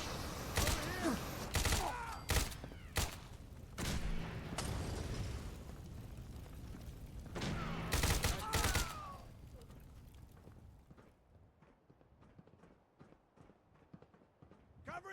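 Fallout 4 video game gunfire comes in sharp, loud bursts and rapid volleys over the first nine seconds, then fades into quieter scattered shots and background rumble.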